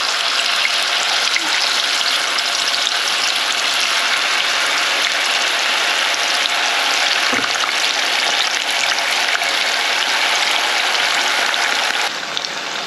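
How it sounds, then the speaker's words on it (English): Drained, cut tofu fries in a pan, giving a steady, loud, continuous sizzle with bright crackling spread evenly throughout and no voices. "I took some tofu, drain it, and then cut it, and now I'm gonna fry it"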